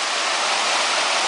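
A mountain creek runs through a small, narrow channel in steep terrain, a steady close rushing and splashing of water with no other sounds.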